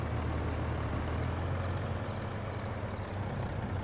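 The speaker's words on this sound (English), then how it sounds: "Just leave the engine running." A vehicle engine idles in Farming Simulator 22, a low, steady rumble that drones on unchanged and fairly faint, with no speech over it.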